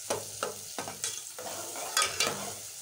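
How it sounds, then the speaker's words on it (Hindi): Spice masala fried in oil for a fish curry, with a spoon stirring and scraping the pan in repeated strokes over a steady close sizzle. "इसमें इसकी भुनाई करते रहेंगे इस मसाले की"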